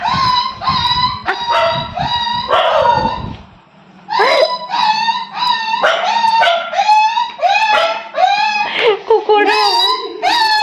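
A dog gives a close, loud run of high yips and whimpering, wavering howls, one after another with a short pause near the middle, with a low rumble beneath the first few seconds.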